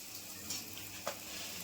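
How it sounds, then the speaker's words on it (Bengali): Luchi, puffed Bengali flatbread, frying in hot oil, a steady soft sizzle throughout with a couple of brief crackling pops, moderately faint and continuous. "এই যে এখন আমাদের লুচি ভাজা হচ্ছে"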